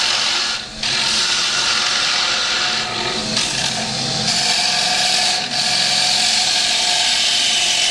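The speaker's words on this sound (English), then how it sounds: "pull the tool handle around quickly so I can back off that cut" A wood lathe spins a bowl blank while a gouge takes a big cut, producing a loud, continuous hissing shear of wood with brief dips as the tool is swept around and eased off, heard up close without speech.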